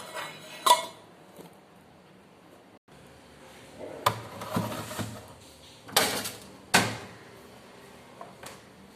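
An ice cream container for homemade mango ice cream being lidded and set in a fridge: a few sharp knocks and clatters of plastic and a fridge door, spaced out over a quiet kitchen background.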